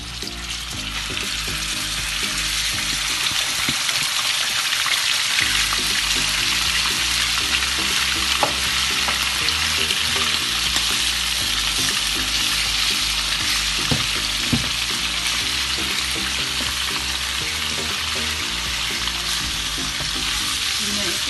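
Minced meat sizzles and fries steadily in a hot karahi, with dense continuous crackling and scraping stirring throughout, close and loud, with no talking.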